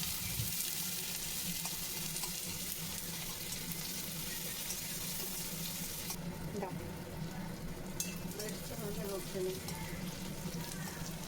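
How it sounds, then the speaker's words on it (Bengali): Steady sizzling of chopped onions, green chilies, dried red chili and bay leaf frying in oil in a wok, a continuous hiss with faint scraping and stirring underneath. "কড়াইয়ের মধ্যে অল্প তেজপাতা আর একটু শুকনো লঙ্কা তার মধ্যে ছোট করে কাটা পেঁয়াজ কুচি আর কাঁচা লঙ্কা দিয়ে এটাকে ভালো করে ভেজে নিতে হবে"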